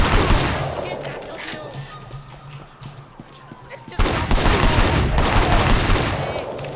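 Pistol gunfire rings out in the Sleeping Dogs video game, a rapid fusillade of sharp, loud shots, sparser at first, then bursting densely after a brief lull.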